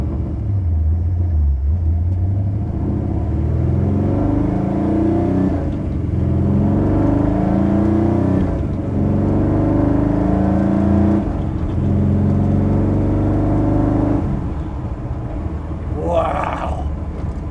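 A car pulls away in first gear at Celebrity Cars Las Vegas, its engine rumbling and rising in revs through several surges, loud and close, with a person talking over it throughout.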